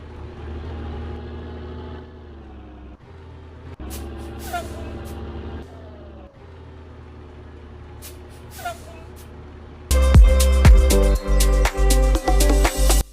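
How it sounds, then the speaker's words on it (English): Truck engine idles low in the video game Global Truck Online, then sharp hisses of air brakes burst out several times, ending in a loud rapid series of hissing releases. "Every truck in the game has a different braking sound."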